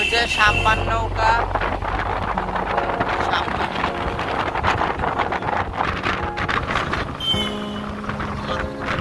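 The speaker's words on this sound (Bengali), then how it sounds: "ওই যে সাম্পান নৌকা" Sampan boat on the sea along the Marine Drive coast near Cox's Bazar, with steady wind buffeting and water rush throughout and a droning motor hum underneath; voices speak intermittently over it.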